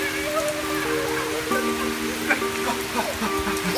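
Rain patters outdoors in a steady wash of drops on surfaces, while someone speaks and a tonal hum sits underneath.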